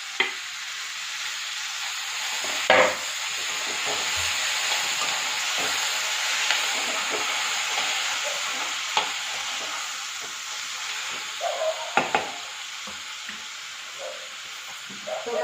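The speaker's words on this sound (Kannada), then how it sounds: "ಈಗ ಈರುಳ್ಳಿ ಎಲ್ಲ ಚೆನ್ನಾಗಿ ಫ್ರೈ ಆಗಿದೆ" Chopped onion and tomato frying in a pan for mushroom masala: a steady hissing sizzle throughout, with scattered scraping clinks of a spatula stirring, heard close and alone.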